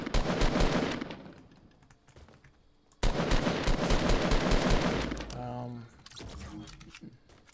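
Automatic gunfire in Fortnite rattles in long, loud bursts as a player shoots down an opponent, with a brief pause between volleys and a voice talking over the shooting.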